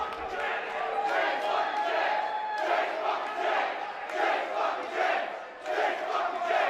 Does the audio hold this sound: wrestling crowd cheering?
yes